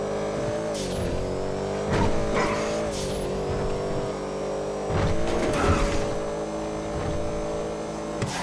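A car in a GTA driving game whines along under engine drone, with several short bursts of tire skidding scattered across the stretch, the squeals rising over a steady, moderately loud motor tone.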